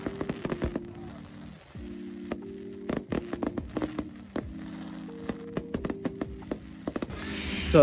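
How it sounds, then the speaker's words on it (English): Guy Fawkes night fireworks display in Cambridge; sharp, irregular bangs and crackles pop out over a steady low hum, some in quick clusters, others spaced apart, fairly distant and moderate in loudness. "These fireworks honestly were incredible."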